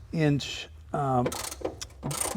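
A hand ratchet working on the 7/16 inch bolts of an ignition coil bracket in an engine bay, several short bursts of close clicking separated by brief pauses.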